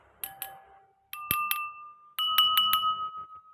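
A spoon strikes glasses filled with different water levels, giving bright, ringing clinks in three quick groups of two or three taps. Each tone rings on clearly and rises in pitch from one group to the next.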